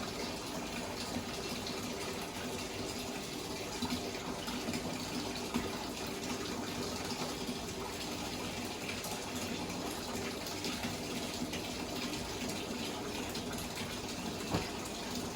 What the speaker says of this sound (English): So I'm going to let the water run for another minute or two until they're completely submerged